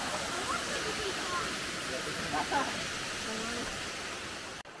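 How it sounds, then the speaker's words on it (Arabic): A waterfall about 18.5 metres high in the Bukovina hills of Chernivtsi Oblast, Ukraine, pours in a steady broadband roar with a voice faintly under it, continuous and even from start to finish. "وهي وصلنا شلال الثالث اللي ارتفاعه"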